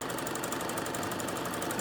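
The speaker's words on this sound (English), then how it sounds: "And carry on sewing." Domestic sewing machine running steadily while stitching a dressmaking bodice, a fast even mechanical whir with rapid rhythmic ticking that holds for the whole moment, close and moderately loud with no talk.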